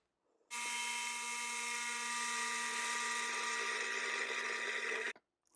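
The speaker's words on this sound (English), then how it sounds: "Now I'm just going to turn on the food processor and let it run." A food processor grinds nuts into nut butter with a steady high motor whine that starts abruptly, holds evenly for about four and a half seconds, then cuts off. No one talks.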